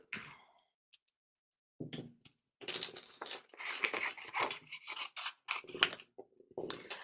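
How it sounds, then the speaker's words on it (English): Scissors hand cutting a card for a quick snowman Christmas card, a run of short crisp snips and rustles of card stock, close and fairly quiet, with gaps of silence between bursts. "So scissors."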